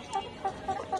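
Layer pullet chickens cluck in short, close bursts, about four quick calls in a rhythmic series over a quiet backdrop.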